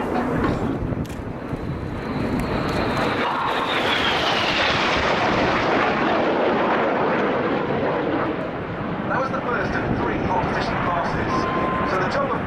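Red Arrows RAF jets of the synchro pair fly the carousel low over an airshow at RIAT 2011, a loud sustained roar that swells as they pass and then slowly fades, with a commentator talking throughout.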